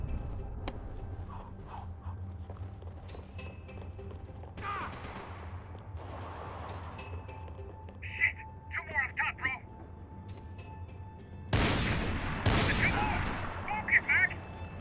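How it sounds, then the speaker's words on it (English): Several sharp gunshots ring out in a shooter game, scattered single reports with a louder burst near the end, set over a low ambient bed. "I can only shoot one at a time."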